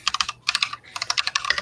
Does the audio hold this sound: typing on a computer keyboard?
yes